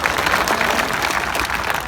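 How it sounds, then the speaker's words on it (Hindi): A crowd gives loud, dense applause to welcome farmer leader Rakesh Tikait at an outdoor rally. The clapping is steady and continuous throughout and nearby, with no speech over it. "राकेश जी टिकैत, जोरदार तालियों से स्वागत करेंगे।"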